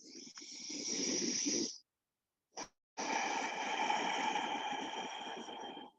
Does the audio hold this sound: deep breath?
yes